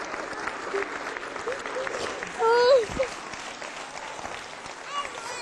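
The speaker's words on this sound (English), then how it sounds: "The crowd gave this surprise reunion a standing ovation." Crowd applauding and giving a standing ovation at a soldier's surprise homecoming reunion with his family, steady clapping throughout with a brief voice cutting in midway.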